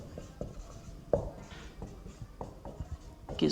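A pen scratches and taps across paper while a physics numerical problem is written out, making short irregular strokes and clicks, close and soft, with no voice.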